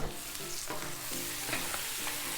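Ribeye steaks seasoned with salt and pepper sizzle on a flat top griddle, a dense continuous crackle and hiss with scattered spatter pops, close and steady throughout.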